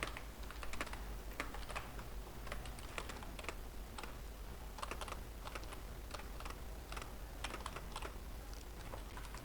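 Someone types C++ code on a computer keyboard, producing close, quiet, steady key clicks in an uneven rhythm throughout, with no talking.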